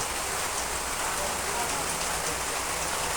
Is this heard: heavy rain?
yes